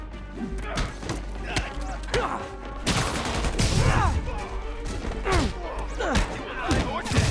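Enemy gunfire in the video game Marvel's Spider-Man, rapid bursts of shots and heavy thuds mixed with game voices and impact sounds, loud and busy over a droning background.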